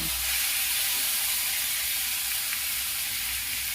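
Spice paste for masala paneer sizzling in a hot pan over low heat, a steady broadband frying hiss that stays even and close for a few seconds, with no voices.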